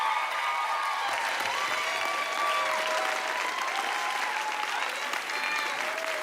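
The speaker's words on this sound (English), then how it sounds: "Keep that applause going!" Audience at an Indigenous music awards show applauds loudly and continuously, a dense sustained wash of clapping with scattered cheers and whoops from the crowd.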